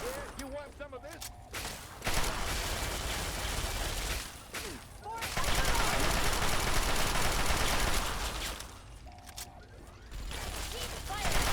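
Fallout 3 combat fills the scene with loud, sustained bursts of rapid gunfire and machine-gun rattle, dense volleys running for several seconds with brief lulls between, under occasional shouted voices.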